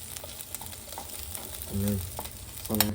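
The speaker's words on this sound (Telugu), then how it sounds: "అదే టమాటాలో వేపుదాము" Vegetables frying in oil in a pan, a soft steady sizzle with stirring taps and scrapes, and a short burst of voice partway through and at the end.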